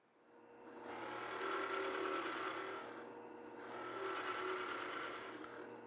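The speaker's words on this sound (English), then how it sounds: "let's go to the drill press and cut some plugs" A drill press cuts wooden plugs in two long passes, a whining machine hum rising into a harsh grinding rasp, then easing off between cuts.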